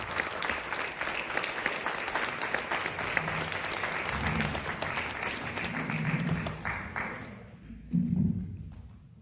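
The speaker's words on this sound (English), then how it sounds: "Please give a big round of applause to Dr." An audience at a Bhagavad Gita talk in Frankfurt applauds Dr. Venugopal, a steady wash of clapping that thins and fades out near the end.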